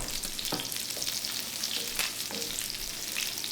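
Mushroom risotto made with Carolina Gold rice sizzles in a pan over low heat while a spoon stirs it, a steady close frying hiss broken by soft scraping strokes.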